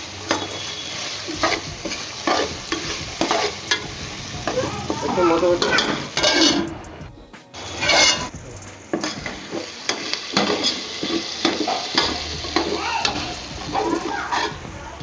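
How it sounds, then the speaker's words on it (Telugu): Curry leaves stirred into a spicy Telangana-style mutton paya curry, a busy close sizzle with repeated spoon scrapes and clinks against the pot, continuing in uneven bursts. "ఇప్పుడు కరివేపాకు ఏదైతే ఉందో ఆ కరివేపాకు వేసుకొని మనం నీట్గా కలుపుకోవాలన్నమాట"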